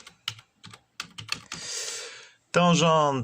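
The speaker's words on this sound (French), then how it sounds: "je tape tangente" Computer keyboard typing while entering a tangent command in GeoGebra: a few short key-click bursts in the first second and a half, followed by louder clatter, with a brief voiced sound at the end.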